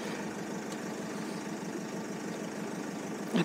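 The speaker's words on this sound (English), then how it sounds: "now with the engine running" Sprinter camper van engine idles in a low, steady rumble with no break, fairly quiet and alone, with a short knock or bump right at the end.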